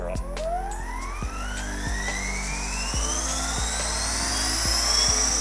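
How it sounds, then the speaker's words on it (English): A Mikado Logo 480 RC helicopter with an unbalanced tail rotor spools up, its motor whine rising steadily in pitch over a loud, constant rotor drone with rhythmic thumps, close and with no talking. "To demonstrate this, we have a Logo 480 with an unbalanced tail rotor."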